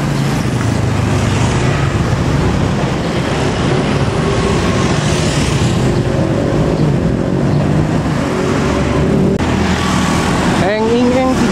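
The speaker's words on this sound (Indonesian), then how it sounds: "Angkot dari Andir ke Garut Kota." An angkot minibus rides from Andir to Garut, its engine droning and road noise rumbling in a continuous loud bed, with people talking over the ride.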